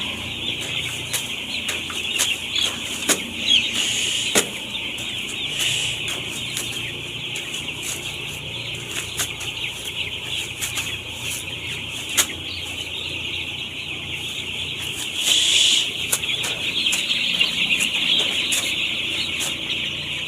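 A flock of week-old chicks is being herded to drink water on a cold day. High, steady peeping carries on throughout, with scattered flaps and clucks. It is near and continuous, and no one speaks.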